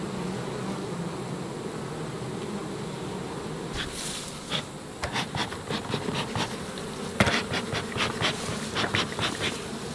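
Honey bees buzz around their hives during a honey harvest, a continuous close drone with several sharp knocks and clatters from hive work in the second half.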